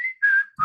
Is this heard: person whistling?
yes